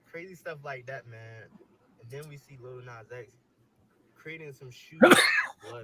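Someone talks in short bursts, then a single sharp sneeze erupts loudly near the end.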